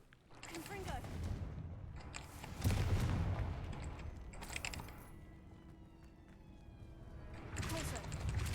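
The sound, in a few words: Confringo fire spell cast in the video game Hogwarts Legacy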